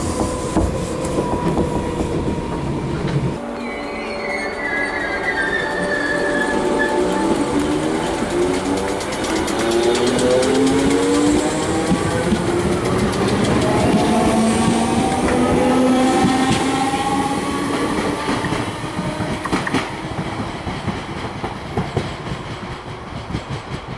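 A train rolls through Merseyside with a steady rumble and rhythmic clickety-clack, then brakes squeal in long rising and falling tones as it slows into Bidston station.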